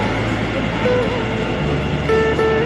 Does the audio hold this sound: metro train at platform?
yes